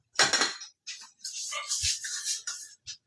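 A lid is set on a pot of simmering rice on the stove, producing a few close metallic clinks and clatters in short bursts, with some handling noise between them.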